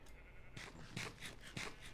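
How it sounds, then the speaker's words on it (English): Minecraft sheep bleat close by, three or four quick nasal baas following one another over two seconds. "All these damn sheep everywhere."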